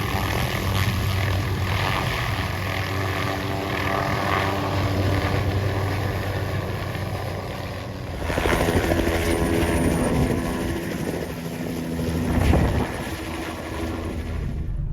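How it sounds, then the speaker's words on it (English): A helicopter at a supercar show makes a loud, steady rotor and turbine roar close by, with a constant high whine over broadband engine noise and swelling pulses throughout. "it's always nice to see a helicopter up close"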